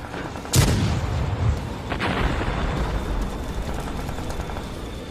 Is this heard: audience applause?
no